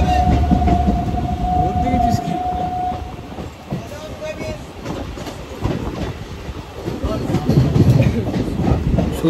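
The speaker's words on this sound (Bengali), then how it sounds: "ট্রেন মোটামুটি টাইম মতনই চলে এসছে" A passenger train runs on the rails, loud and close, with rolling rumble and rattle, a sustained horn tone early on and clicking wheel sounds, plus faint voices in the background.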